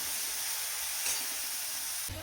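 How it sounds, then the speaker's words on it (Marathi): Tomatoes fry in oil over low gas, giving a soft continuous sizzle that stays even and fairly quiet throughout, with no voices. "तोपर्यंत टोमॅटो आहे तो पण आपला तेलामध्ये छान म्हणजे गाळ होतोय."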